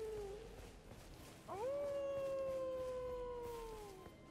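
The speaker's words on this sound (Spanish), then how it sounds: "Él ahí se encuentra aullando, por alguna extraña razón." Blaidd the half-wolf from the video game Elden Ring lets out a long, sustained howl that starts abruptly, holds a steady tone for over two seconds and fades, preceded by a shorter wavering howl, with no talk.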